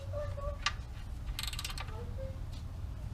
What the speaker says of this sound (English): we're going to take our ratchet, the 13mm socket